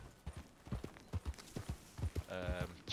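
Rhythmic clip-clop of hooves from a galloping horse in Red Dead Redemption, moderately loud, with someone talking over it.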